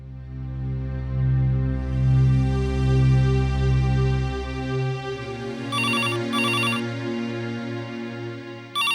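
An office telephone rings in two short bursts, with the start of a third at the very end. Before the rings, a sustained, steady harmonic music drone plays. No one speaks.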